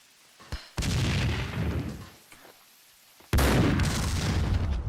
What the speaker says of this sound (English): somebody's throwing grenades at me